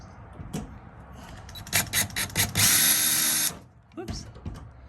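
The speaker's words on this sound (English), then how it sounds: "we're gonna drill those up" A power drill bores pilot holes for a removable bed in a Sprinter van, whirring in short bursts, then running steadily for about a second before stopping, with a few clicks and handling noises around it.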